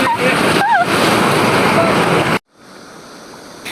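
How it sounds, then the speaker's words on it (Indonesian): Loud, rushing river rapids roar continuously during rafting in China, then abruptly drop to a quieter flowing hiss; faint whistling tones briefly sound early on. "itu airnya kenceng banget dan dia itu tuh udah lumayan dalam gitu ternyata"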